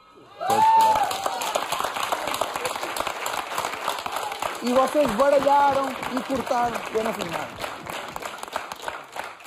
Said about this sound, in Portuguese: Uma salva de palmas enorme!